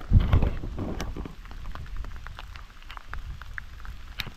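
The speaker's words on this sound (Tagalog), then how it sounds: "Kaso umuulan" Steady rain falls on a high mountain road in Apayao during a motorcycle ride, a dense close hiss with scattered drops and low rumble that fades slightly after an initial louder burst, with no voices.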